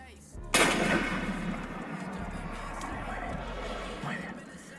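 A single loud gunshot from the video game Free Fire bursts out sharply near the start and then trails into a long, noisy rumbling tail that fills the rest of the clip.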